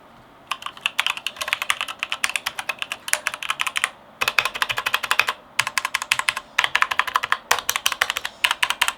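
Fast bursts of crisp, clicky keystrokes on a mechanical keyboard at a desk setup, coming in close, loud runs with a few brief pauses between them.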